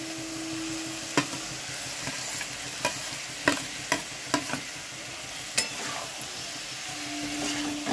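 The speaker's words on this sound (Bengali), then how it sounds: "এবার আমি ফুলকপিটা দিয়ে দেবো।" Cauliflower fries in a pan with a steady sizzle, while a utensil stirs and knocks against the pan in several sharp, scattered clacks.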